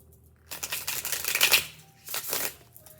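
Cards riffled and bridged in two quick bursts, a crisp flutter of snapping edges up close with a short pause between.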